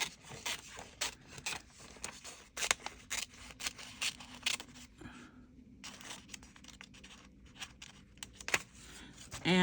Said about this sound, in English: I'm going to just roughly cut them out around the edge.